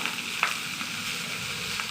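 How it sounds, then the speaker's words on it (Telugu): Nalleru (veldt grape) fries separately in a pan with a continuous close sizzle and crackle, broken by a few sharp pops and scraping stirs. "ఇట్లా నల్లేరును కూడా సపరేట్గా వేయించుకోవాలన్నమాట"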